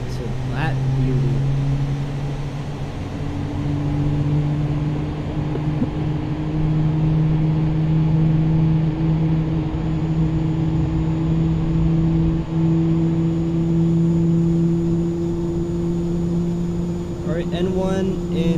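Airliner jet engine number two, the right engine, spools up in Microsoft Flight Simulator 2020, a steady loud droning whine with rising tonal hum held throughout, heard without pause.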